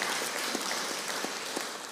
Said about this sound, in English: Always up for some spontaneous applause.